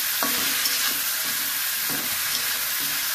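Radish greens stems and ginger sauté with salt in a hot pan, a constant loud sizzle broken by the scrape and clatter of a spatula stirring, close up with no talk.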